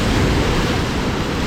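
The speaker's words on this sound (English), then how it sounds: "you can hear the sounds of the waves crashing" Ocean waves crash and surge as water rushes in around a rocky island bath, a loud continuous wash of surf with some wind buffeting the microphone.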